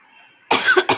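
A person suffering a cold and fever coughs close up, a hacking burst followed by a second short cough after a quiet lead-in.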